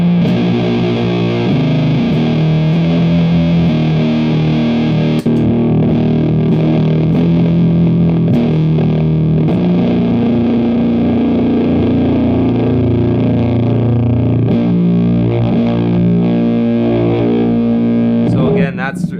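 A heavily fuzzed electric guitar through an Elder God Fuzz pedal and Sunn Model T amp plays sustained, thick distorted chords and riffs, loud and continuous without a break.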